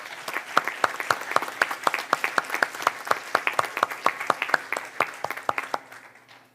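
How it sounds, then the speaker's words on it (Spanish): A church congregation claps in a steady, distinct rhythm of individual hand claps, fairly close, continuing evenly before tapering off and stopping near the end. "Pues dale un aplauso al Rey de Reyes."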